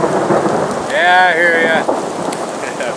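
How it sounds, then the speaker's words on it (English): Pea-sized hail and rain from a thunderstorm pound steadily down in woods, a dense continuous hiss near at hand with a person talking briefly over it. "It's just pounding down pea-sized hail right now."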